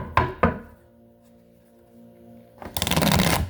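Close up, a couple of sharp taps and a quiet ringing tone lead into a quick riffling shuffle of tarot cards near the end.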